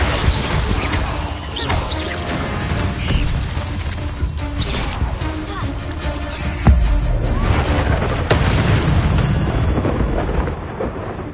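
Dense, continuous crashing and rumbling fill a fire-blast explosion spell in the video game Hogwarts Legacy, loud and roaring throughout with sharp shattering bursts near the middle and toward the end.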